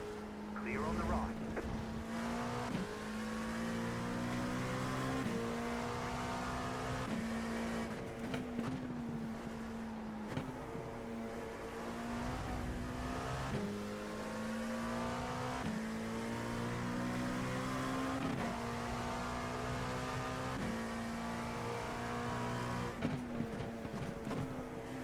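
A car drives along a road, its engine holding a steady, close hum that rises and drops with gear changes for the whole stretch, with a bit of road noise underneath.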